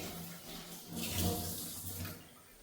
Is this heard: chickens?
no